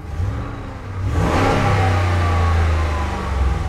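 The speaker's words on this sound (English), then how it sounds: "I'm not one of those people to just rev the shit out of an engine when it's cold" A pickup truck engine idles, then revs up loudly and holds a steady high drone, close and alone without voices.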